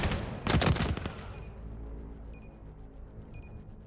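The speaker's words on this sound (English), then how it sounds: "Pure gunfight." Gunfire in the VR shooter VAIL VR: a dense burst of rapid automatic shots early on, then sparse electronic beeps and tones over a quiet background.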